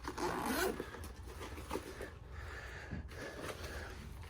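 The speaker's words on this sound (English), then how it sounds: "Have a top zipper bag here." A top zipper on a tan 5.11 Push Pack bag is pulled open, with a loud, quick zip at the start followed by softer scraping and rubbing of the fabric and zipper teeth, close up and with no talking.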